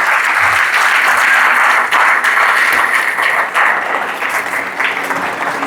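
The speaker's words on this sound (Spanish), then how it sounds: "Los que crean aplaudan" A church congregation fills the room with broad, sustained applause during a Sunday sermon, a steady wash of clapping that holds strong throughout with no words spoken over it.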